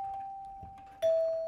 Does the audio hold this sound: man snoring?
no